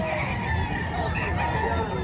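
Roosters crow and chickens cluck close by at a Philippine chicken market, a continuous layer of bird calls over a dense background hum of the crowd.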